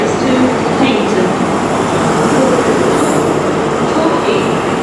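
Great Western Railway train at Newton Abbot station, a loud, steady rumble of wheels and carriages rolling close by, with faint squeals and a voice partly under the noise.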